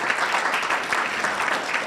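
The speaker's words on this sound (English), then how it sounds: "So with a round of applause, the Ghana Education Service, in partnership with ABSA Bank, are the mainline sponsors" Steady, dense applause from an audience at the launch of the 2021 National Science and Maths Quiz, sustained and even throughout with no gaps.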